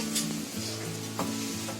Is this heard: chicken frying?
yes